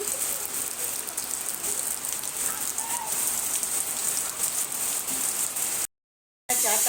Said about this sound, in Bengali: দেখো ঝিরি ঝিরি ঝিরি ঝিরি বৃষ্টি